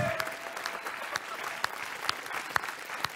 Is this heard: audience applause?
yes